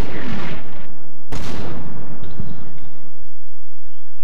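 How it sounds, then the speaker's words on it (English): German artillery fire in the Combat Mission WWII strategy game, heavy booming blasts with a sharp loud impact mid-clip and rumbling decay, followed by faint crackling. "the German artillery is working very well."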